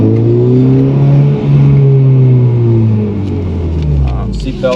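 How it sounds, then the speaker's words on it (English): A Honda car with a Hondata tune rumbles with a deep engine note that rises and falls as it revs, loud and close throughout, with no talking. "I wanted you guys to hear the car real quick"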